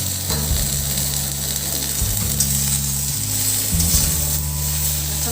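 Chopped tomato from one large tomato goes into a hot pan for a Bengali palong shak ghonto, a spinach dish. A loud, steady frying sizzle runs the whole time, with stirring and faint scraping and no talking.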